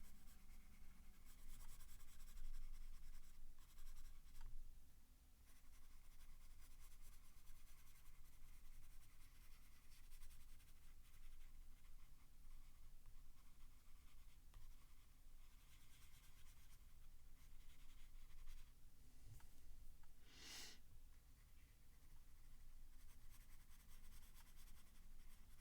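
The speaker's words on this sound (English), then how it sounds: "Color in this flag a little." Pencil coloring in a drawn flag: a steady, soft scratchy shading texture running throughout, close and quiet, with a brief sharper scrape near the end and no talk.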